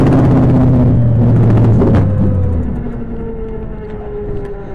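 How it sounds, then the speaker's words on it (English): A race car engine roars loudly up close as the driver hits the throttle during a playoff race, a steady rising drone with strong low harmonics that eases back and settles into a lower, sustained hum. "I heard him hit the throttle"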